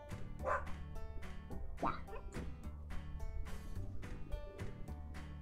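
Dog barks and yips in a pet clinic video game, with several short bursts over a steady background of game music.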